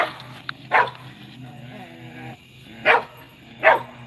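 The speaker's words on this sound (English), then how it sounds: "They're big dogs now." Big dogs, grown from puppies, bark in a few loud, sharp bursts, with a low rumbling growl between them, heard close up at home.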